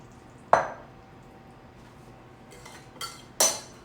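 A utensil clanks against a pot while ricotta cheese is stirred into shell pasta, one sharp metallic knock followed by quiet, then two more scraping clinks near the end.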